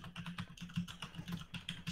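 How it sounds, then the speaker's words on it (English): Rapid keystrokes on a mechanical computer keyboard, crisp clacking taps in an uneven rhythm, close to the microphone and fairly quiet, with no talking. "Sorry if you can hear my typing."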